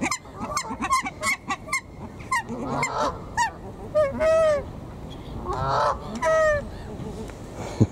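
Nene geese honk outdoors at Arundel in repeated nasal calls, several overlapping and moderately close, with short gaps and quieter background noise between them.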